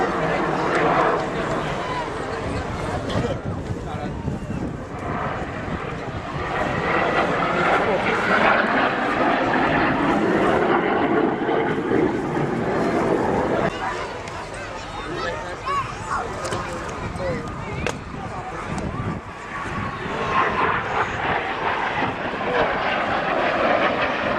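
Trainer jet aircraft flies at the 2017 Wales National Airshow, its engine roar building and fading as it passes, with a commentator speaking over the noise throughout.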